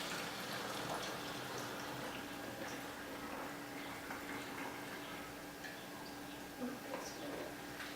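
Wine pours through a funnel into a container, a faint, steady liquid trickle and gurgle under low room noise, with a voice talking over parts of it.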